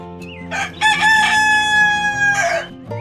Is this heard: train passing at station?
no